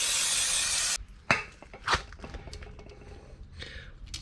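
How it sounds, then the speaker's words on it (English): Can of brake cleaner sprayed on Suzuki Every DA52V van rear brake parts: a loud hissing burst for about a second, then sharp clinks and small handling knocks of metal parts. "Just going to clean it up a bit with some brake cleaner"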